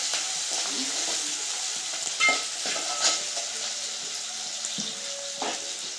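Ridge gourd pieces frying in oil in a home kitchen, a steady hiss and sizzle with light stirring scrapes and a few brief clinks, heard up close and without talk.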